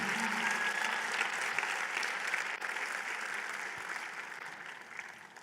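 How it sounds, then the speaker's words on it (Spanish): A church congregation applauds during a Spanish-language worship service, with dense, steady clapping that holds strong for about five seconds before easing off slightly toward the end. "Vamos a dar un aplauso al que vive y reina para siempre."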